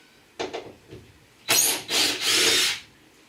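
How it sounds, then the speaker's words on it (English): Rasping scrapes and tool noise from pulling off a side panel inside a van. A few short scuffs come first, then three longer, louder grinding strokes close by. "let's go ahead and make a start of taking this panel off"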